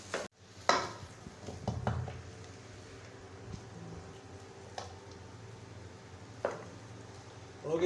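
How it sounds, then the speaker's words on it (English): Thai fried rice with egg and green onions is stirred in a pan, making soft scraping and scattered spatula taps against the metal, close and quiet, with a few sharper knocks spaced apart and no talking. "Into the rice, after stirring in the stirred egg, we'll put in green onions. Give it a mix for another 30 seconds"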